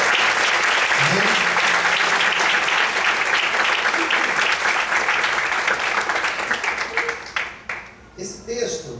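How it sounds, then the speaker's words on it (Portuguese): A church congregation applauding during a morning service, a loud, dense and sustained clapping that fills the room and tapers off toward the end, with voices calling out over it. "Você pode aplaudir o Senhor nesta manhã?"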